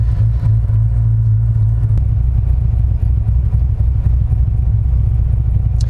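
A Corvette ZR1 engine tuned to 762 horsepower rumbles deep and loud, a continuous heavy drone with a brief change in note partway through, no voices over it.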